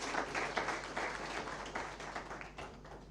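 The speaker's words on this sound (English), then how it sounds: "Can we clap better for Consulate?" Audience applause at a civil society conference in Northern Uganda, a steady wash of many hands clapping at moderate distance in a hall, sustained evenly for a few seconds without a clear break.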